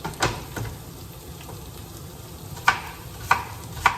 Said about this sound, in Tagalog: Yan po ang ating ginisang sibuyas.